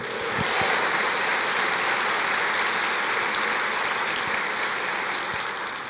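A church congregation applauding, a dense, steady wash of clapping from many hands that holds evenly for several seconds and fades slightly at the end.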